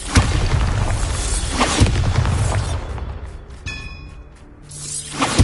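Bombarda explosion spell blasts in the video game Hogwarts Legacy, heavy booming bursts with rumbling debris and whooshes, loudest at the start, trailing into a quieter swell and another boom at the end.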